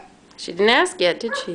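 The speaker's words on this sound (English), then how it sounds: "That is a dog." A dog yips and whimpers in short, high calls, close and clear, mixed with someone speaking to a child during a sound-button toy game.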